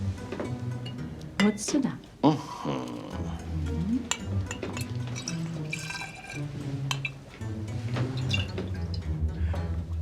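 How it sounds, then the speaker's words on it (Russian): Liquid pours out and splashes with drips and clinks of dishes, close and fairly quiet, while a person speaks over it. "Итак, мы берем вот это и выливаем"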